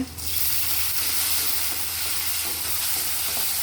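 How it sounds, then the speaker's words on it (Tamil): Mustard seeds, shallots and tomatoes frying in oil for a sambar, a loud, dense, continuous sizzle close by with faint stirring, no voices. "எண்ணெய் ஊற்றுறாங்கங்க கடுகு போடுறாங்க சின்ன வெங்காயம் போட்டுக்கலாங்க தக்காளி போட்டுக்கலாங்க"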